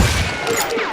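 Gunfire in Call of Juarez: Gunslinger, a dense wash of overlapping shots and noisy bursts in a busy Old West firefight, loud and continuous over one second.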